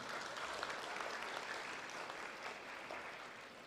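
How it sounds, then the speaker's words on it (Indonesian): An audience at a university graduation ceremony applauds, a dense, even wash of clapping from many hands that holds steady throughout with no pauses. "Ini kita beri aplaus dulu untuk Bina Dharma"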